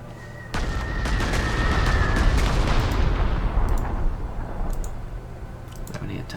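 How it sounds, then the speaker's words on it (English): A bomber strikes an enemy unit in the strategy game Panzer Corps 2, a sustained rumbling barrage of booms and crackling impacts that starts abruptly and rolls on for several seconds before fading. "We'll bomb this guy."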